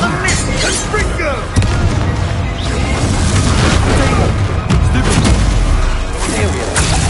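A Confringo fire spell goes off in a wizarding video game, a loud, dense roaring blast that fills the whole stretch with continuous rumbling and crackle, with a sharper surge partway through.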